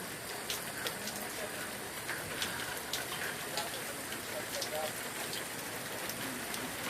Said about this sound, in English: More rain coming in